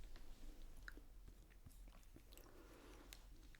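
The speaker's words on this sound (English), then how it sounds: "I didn't think biscuit eating could get much more exciting." Someone eats a biscuit close to the mic, with a few soft bites and then quiet, wet chewing in an irregular rhythm, very hushed and with little crunch.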